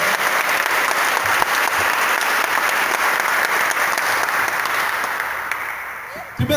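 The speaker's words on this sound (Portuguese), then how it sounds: "Eu convido você a beijar sua Bíblia e aplaudir esta palavra de Deus. Aplauda com força mesmo," A church congregation applauds loudly and continuously, a thick roar of clapping with voices inside it that tapers near the end before a brief final burst.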